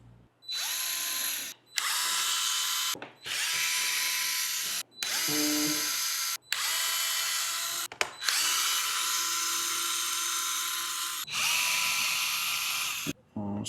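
A power driver on a Traxxas Maxx Slash RC truck whines in repeated bursts, about eight short runs separated by brief pauses as screws are backed out of the body cover, close and steady with no talk over it.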